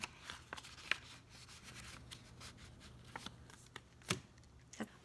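Paper cash bills rustle and slide as they are stuffed into a budgeting envelope, soft close-up crinkling with several sharper flicks and rubs, quiet and without talk.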